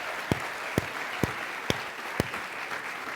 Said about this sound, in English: I'm clapping for Janelle